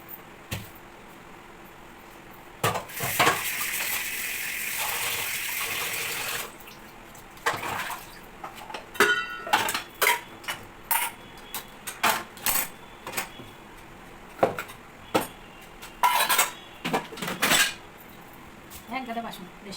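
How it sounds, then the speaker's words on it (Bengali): Dishes and cutlery being washed in a home kitchen: a steady stretch of running water, then a series of short clinks and clatters of plates and utensils at close range, with no talk. "এক গাদা বাসন বেশি ধুতে হবে"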